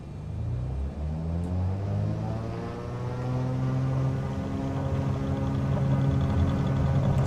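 A light aircraft engine in Microsoft Flight Simulator drones and builds steadily during a takeoff run, its rising harmonic tone growing louder and smoother over several seconds with no voices.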